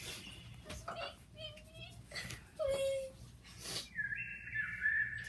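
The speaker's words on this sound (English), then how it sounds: "here's bird sounds" A tiny pet bird gives several short, thin chirps and whistles indoors, soft and scattered, with people talking nearby in the background.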